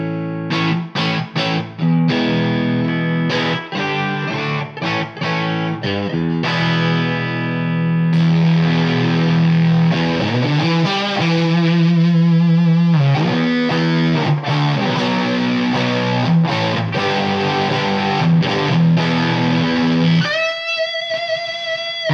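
Fuzz-driven electric guitar through a Shin-ei Psychedelic Machine pedal into a Suhr Badger amp head and matching Suhr 1x12 cabinet, loud and saturated, with choppy strummed chords, sustained swells and single-note lines, no talking.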